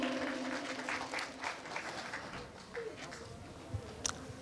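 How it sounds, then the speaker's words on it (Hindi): An audience at a singing club program in Thane claps for a singer, a moderate patter of many hands that thins and fades, heard from a distance, with a few louder isolated claps near the end. "जोरदार तालियां विजय जी के लिए"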